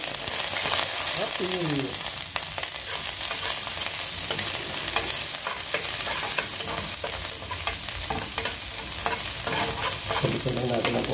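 Garlic sizzling loudly in a hot pan with constant stirring scrapes and clatter, dense and close, while a voice speaks briefly over the frying.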